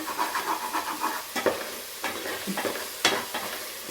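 Masala frying in oil for mushroom biryani, a close, bubbling sizzle broken by several sharp scraping strokes of a spoon stirring the pan, uneven in rhythm with no talk.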